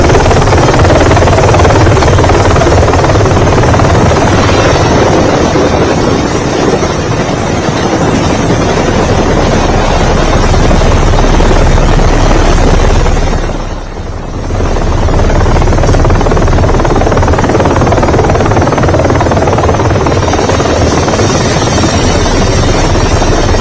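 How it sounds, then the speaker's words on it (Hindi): A helicopter flies low over devotees, showering them with flowers at a crowded religious fair: a loud, continuous rotor and engine roar close by, dipping briefly midway before returning at full strength. "हेलीकॉप्टर से भक्तों पर फूल बरसाए जा रहे थे।"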